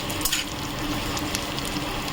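Steady crackling hiss of potatoes and onions frying together in a pan, close up, with a few faint clicks and scrapes and no voices.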